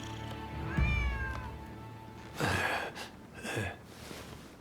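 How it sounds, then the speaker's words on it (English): Stray cat in Rise of the Ronin meowing close by, with a drawn-out mewing call early on followed by a few shorter, breathier cries, alone against quiet background ambience. "Who'd have thought a stray cat would wander in?"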